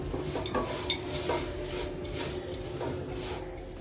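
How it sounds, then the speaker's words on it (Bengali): Milk powder and sugar are mixed in a pan with a utensil, producing scraping, rubbing strokes and light metallic clinks at close range, with a faint sizzle beneath and no talking. "জাস্ট হালকা হাতে মিক্স করে নিব খুব বেশি ভাজা ভাজা করব না আমি"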